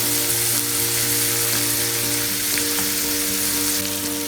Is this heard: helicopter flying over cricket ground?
no